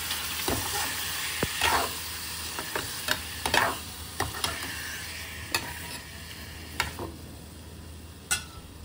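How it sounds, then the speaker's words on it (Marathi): Paneer cubes frying in hot oil on a home stove, a steady sizzle with scattered clicks and taps of a spoon stirring the pan, close and fairly quiet, with no talk. "त्याला तेल गरम झालं, मी ते पनीर फ्राय करून घेते, थोडंसं तेलात परतून घेते"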